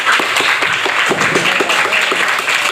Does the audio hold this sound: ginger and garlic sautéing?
no